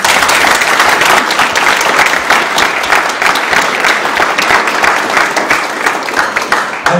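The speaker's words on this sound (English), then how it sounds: "a round of applause to those people" Loud, sustained applause from an audience at a 40th anniversary meal, dense hand-clapping that carries on evenly throughout with no talk over it.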